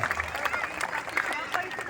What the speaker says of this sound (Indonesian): Boleh minta tepuk tangannya sekali lagi buat tari topeng tunggal